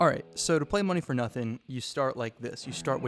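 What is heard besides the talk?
No distinct noise like a dog, phone or traffic.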